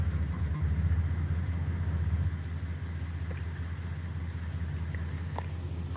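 A Plymouth Fury II engine idles steadily just after starting, a low continuous rumble at an even, moderate level with no talk over it.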